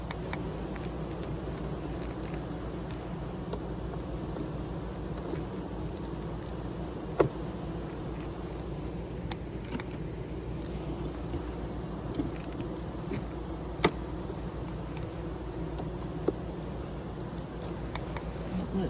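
Honey bees buzz in a steady, faint drone during a hive split inspection, a continuous hum with a few small clicks and knocks, no voices.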